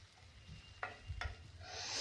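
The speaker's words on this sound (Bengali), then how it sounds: "তেল অ্যাড করে হালকা গরম হওয়ার পর আমি একটা পেঁয়াজ কাটা আছে, ওই কাটা পেঁয়াজ, কুচি করা পেঁয়াজ আমি দিয়ে দিলাম।" Chopped onion dropped into lightly heated oil for a duck keema curry, giving soft low frying rumble with a couple of sharp clicks and a rising bright sizzle at the end, close and fairly quiet, no talk.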